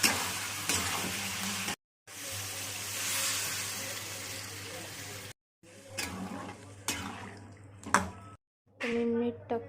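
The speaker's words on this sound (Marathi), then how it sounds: "आणि चांगलं हलवून घ्यायचे" Spiced masala sizzles and frying eggs are stirred in a pan, with a steady frying hiss and scraping broken by short pauses, and a voice talking over parts of it.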